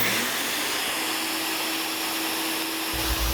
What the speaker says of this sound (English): don't forget to fire up your vacuum.